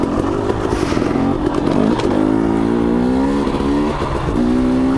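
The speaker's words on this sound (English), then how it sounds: "Grab second gear again without clutching." A car engine revs hard and pitch climbs as it grabs second gear without the clutch during a sprint race, loud and close with a brief dip between rising pulls and some mechanical clatter.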